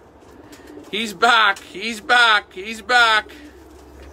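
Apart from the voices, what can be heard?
racing pigeons cooing in a loft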